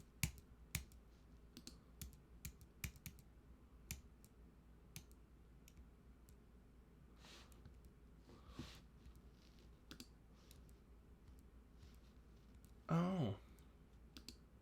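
Faint computer keyboard clicking, scattered key taps and clicks in a quiet room, with a brief murmured exclamation near the end.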